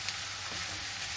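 Capsicums of three colours, corn and green peas sauté in a hot pan, giving a steady close sizzle and crackle of frying with faint stirring, no talk.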